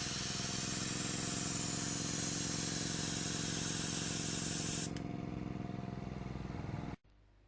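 A budget Switzer double-action airbrush sprays steadily, a loud continuous airy hiss with a compressor hum underneath; the hiss softens partway through, then cuts off abruptly near the end.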